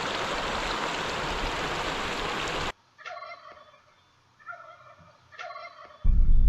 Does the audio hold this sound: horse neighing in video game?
no